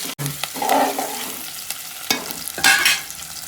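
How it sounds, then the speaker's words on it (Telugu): Cloves and bay leaf stirred into hot oil in a pan for a bachelor-style mutton curry, giving a soft sizzle with a few scraping stir strokes, close and moderately loud, no voices. "లవంగాలు బగారాకు వేసి ఒకసారి కలబెట్టుకుందాం"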